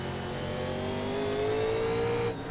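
A 1987 Legends race car engine revs hard and steadily climbs in pitch while racing at Martinsville Speedway in iRacing NASCAR, loud and continuous, with the note dropping off sharply near the end.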